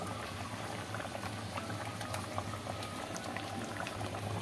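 Egg omelette curry gravy bubbling in a pan, a steady, close, low boiling burble that runs unbroken throughout with no talk.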